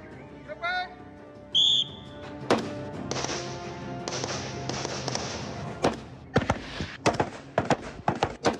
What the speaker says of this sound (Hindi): अपने अपने टारगेट पे 4 राउंड सिंगल शॉट